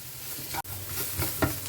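Gram flour batter coating fries in a hot pan while being stirred, giving a steady dense sizzle with scraping strokes and a brief break in the middle, close and alone without voices.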